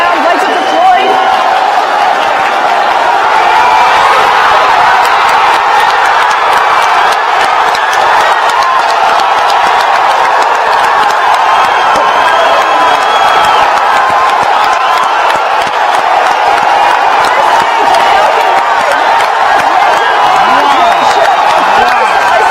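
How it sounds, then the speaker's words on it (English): A large crowd roars and cheers continuously at a SpaceX Falcon 9 rocket landing, with clapping and whoops mixed into a dense, loud wash of noise. "the crowd is going absolutely nuts"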